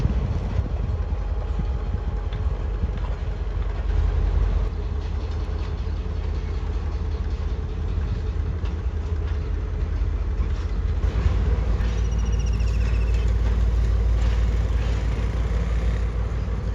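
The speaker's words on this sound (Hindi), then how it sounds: "ये लोकोमोटिव जो है यार्ड में लेके जा रहा है एक ऑयल टैंकर कोच को" A locomotive hauls an oil tanker coach into the Rohri rail yard in Sindh, giving a steady, continuous low diesel engine rumble with rail noise throughout and no voices.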